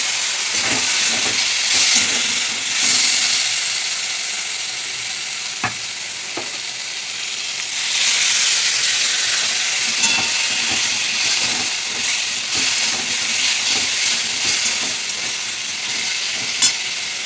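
Spice water poured into a hot pan hisses and sizzles loudly, with stirring scrapes and a burst of steam partway through; no voices.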